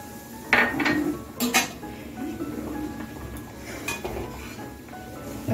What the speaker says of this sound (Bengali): এখন এখান থেকে 2 হাতার দুধ আমি তুলে নিচ্ছি একটা বাটিতে